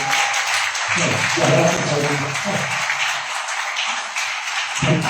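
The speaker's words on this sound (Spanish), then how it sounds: "Otro aplauso para ella." Audience applause at an editorial forum on audiobooks, steady clapping filling the room throughout, with voices talking beneath it.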